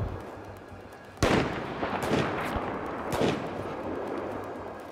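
Pistol hip-fire gunshots in Battlefield 4 Gunmaster mode, a sharp nearby crack followed by a couple of further bursts over a steady noisy game background.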